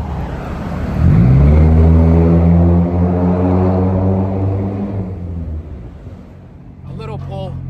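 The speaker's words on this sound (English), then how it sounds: "can never properly get a sound clip of the car." A car engine revs up sharply, holds a loud roaring whine, then slowly winds down, recorded up close with a faint voice at the end.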